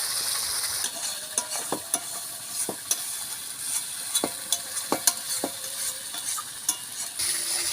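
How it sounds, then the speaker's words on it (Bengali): Desi chicken fries in oil with a little sugar in a pan over a wood-fired stove, stirred often. A steady bright sizzle carries on throughout, broken by scattered scraping clicks of the spoon, close up, with no talking. "ঘন ঘন নাড়ছে যাতে পুড়ে না যায় তাহলে তাড়াতাড়ি কষানো হয়ে যাবে"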